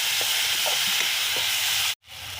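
Finely diced tomatoes fry in hot oil in a pan for an Assamese mustard fish curry, giving a steady loud sizzling hiss that cuts out abruptly near the end before resuming.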